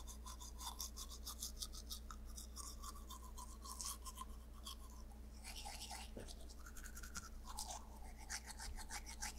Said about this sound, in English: So we're just brushing our teeth.